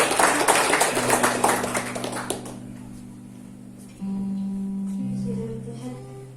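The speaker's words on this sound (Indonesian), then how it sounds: "Tepuk tangan untuk Tuhan." A congregation at a Sunday service in a GBI church claps briskly for a couple of seconds. The applause then fades away, leaving sustained keyboard chords ringing alone.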